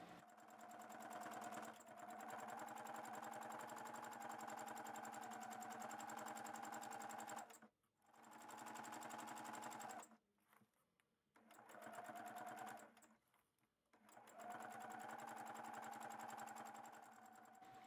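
A sewing machine runs steadily, free-motion thread sketching with variegated thread. The loud, close, even whirring and stitching stops briefly several times before starting again.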